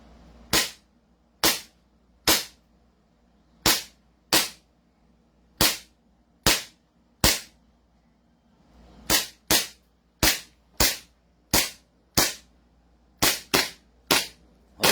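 Sharp, loud shots from an Irex Hi-Capa 6.0 pistol after repair, fired in a rapid uneven series of about twenty cracks with short pauses between bursts, no talking.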